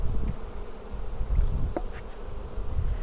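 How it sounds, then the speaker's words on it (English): A steady buzzing drone of many old field honeybees flying home to the hive, close and continuous, with a low rumbling hum underneath. "while those old field bees are flying home"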